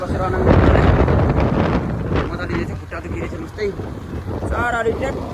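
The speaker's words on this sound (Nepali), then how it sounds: "बाइक कुदाउँदै हुन्छ मोटरसाइकल" Wind roars across the microphone during a night motorcycle ride from Itahari toward Taplejung in Nepal, a constant close rushing with buffeting gusts and a steady low rumble.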